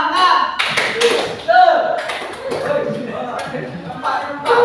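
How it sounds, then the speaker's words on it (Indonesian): A high-school class performs a rhythmic spirit clap in the classroom: scattered bursts of many hands clapping in short patterned groups, mixed with voices talking and calling out. "Tepuk semangat."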